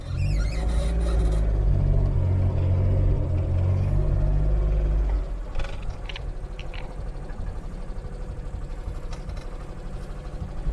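The engine of a 1986 Suzuki Mighty Boy small pickup runs loudly in reverse, its close low drone holding for about five seconds, then dropping to a quieter, rougher rumble.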